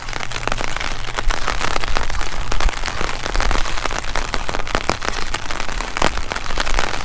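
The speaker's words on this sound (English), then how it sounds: "I'm just going to let you guys listen to the rain." Rain falls steadily on an umbrella and the ground during an outdoor walk, a dense, loud, close patter of countless drops with sharper taps standing out, continuous throughout and with no talking.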